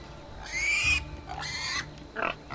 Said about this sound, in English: Sorry, little pigs.